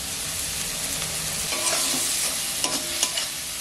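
Spiced masala paste sizzles steadily in a pan while being stirred, with oil hissing throughout and a few sharper scrapes of the utensil near the end; close and fairly loud, no talking.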